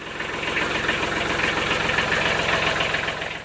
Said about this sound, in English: So we're gonna go get out the tractor and see if I can make a couple passes